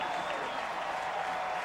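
A large stadium crowd of Saskatchewan Roughriders fans in Regina cheers and applauds in a steady, dense roar, heard from a distance without any distinct peaks.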